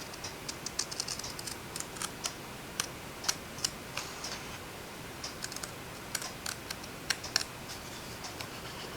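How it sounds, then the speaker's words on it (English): Shears trim the edge of a paper Christmas card, producing a series of small, crisp snips in quick clusters, with a quiet gap midway and a low room hiss underneath. "Let's see if we can use a pair of shears and trim this just a hair more."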